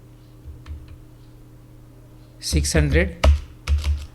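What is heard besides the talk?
typing the rate on a computer keyboard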